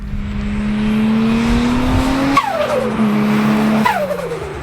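A loud turbocharged RB26 engine in a Datsun 240Z revs up steadily with a rising drone, then drops briefly between gear shifts before climbing again, close and continuous.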